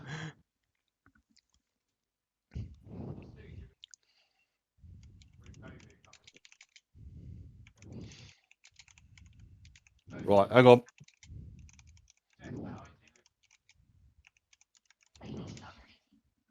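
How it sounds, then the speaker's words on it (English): Soft computer keyboard typing during an online tabletop game session, scattered clicks and short bursts at low level, with people talking quietly in between. "Nope, I'm still typing in Infernal."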